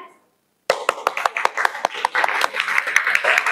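Students in a classroom clap hands in a counting rhythm game, a run of sharp, close claps in quick bursts after a short silence, with a teacher's voice calling out between them.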